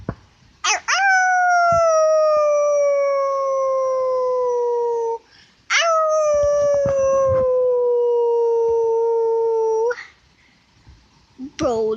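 A pet dog lets out two long, loud howls close by. Each one glides slowly downward in pitch, and a short pause separates them.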